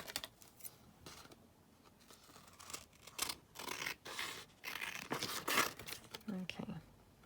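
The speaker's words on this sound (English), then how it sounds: "Right, we just cut this down." A card blank is cut down at a crafting desk. Close, crisp scraping and crinkling cuts come in uneven strokes, growing louder toward the end.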